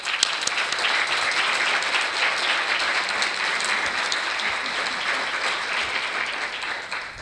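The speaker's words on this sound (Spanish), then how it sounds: "Un aplauso." An audience at a monthly conference in Monterrey applauds, a dense, steady wash of clapping that holds at an even, fairly loud level for several seconds with no talking.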